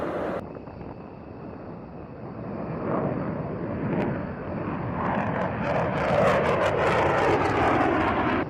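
A US Air Force B-1B Lancer takes off on afterburner with a loud, continuous jet roar that swells steadily and thunders close by, with no voices.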